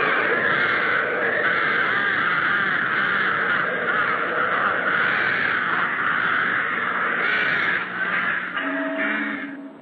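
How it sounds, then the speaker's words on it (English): Crows caw continuously in a dense, loud chorus at Crookhaven, Ireland, many birds calling over one another without pause. "the only music heard now is that of the new occupants,"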